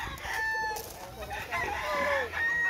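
Several roosters crowing on a gamecock farm, overlapping drawn-out calls from near and farther birds repeating across the stretch with faint clucking beneath.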